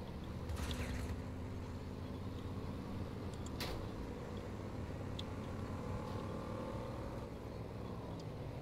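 A vehicle engine in the Crossout video game hums low and steady at a moderate distance throughout, with a few faint clicks and brief higher noises over the drone.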